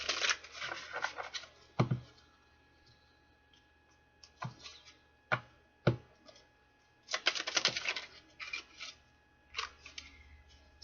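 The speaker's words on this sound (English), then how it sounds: "One more shuffle here, Spirit." Tarot cards being shuffled by hand, sharp riffling bursts and crisp slaps coming in irregular clusters with quiet gaps between, close and fairly soft.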